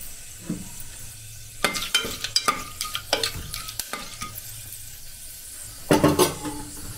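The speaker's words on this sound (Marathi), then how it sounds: "हे सगळे खडे मसाले आधी टाकून घ्यायचे, थोडंसं फ्राय होऊ द्यायचं त्याला।" Whole spices frying in a pan for mutton, with a soft sizzle under a rapid run of close spoon scrapes and knocks against the pan, then a louder clatter near the end.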